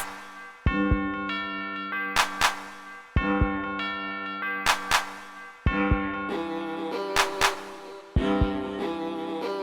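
Bells ring in live-coded industrial ambient music, sounding clear resonant chimes in a repeating phrase of struck tones with sharper high accents. Each tone rings out and decays before the pattern starts again.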